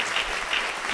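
An audience applauds in a brief, steady burst of dense clapping, filling the moment without a break.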